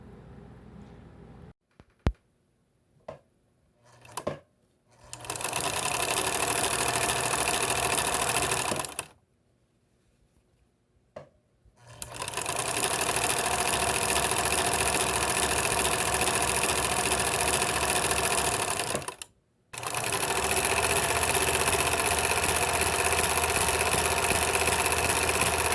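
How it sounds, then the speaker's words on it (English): An old Singer sewing machine sews a fabric ruffle onto a rag table runner in three long bursts of rapid, steady mechanical stitching, separated by short pauses with a few clicks and handling noises. "now we're going to sew our ruffle on that we made on our old Singer sewing machine"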